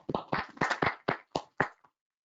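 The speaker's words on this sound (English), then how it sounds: "So I would request you all to give a big round of applause for the people who are sitting here." A handful of sharp, separate hand claps ring out close by in an audience at an e-commerce event, about seven claps over two seconds before stopping.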